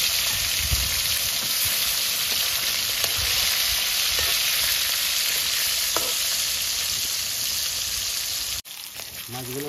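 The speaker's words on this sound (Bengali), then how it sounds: "মাছগুলো লাল করে ভেজে নিচ্ছি, তুলে নিচ্ছি।" Pieces of rohu fish frying in hot oil, a loud continuous close sizzle throughout with faint stirring touches, cutting off abruptly near the end.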